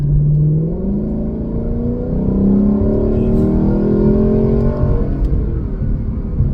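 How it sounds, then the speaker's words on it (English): A car's performance exhaust revs and accelerates with the top down, loud and close, its engine note climbing in sweeping harmonic rises across several seconds. "I'm in love with this exhaust"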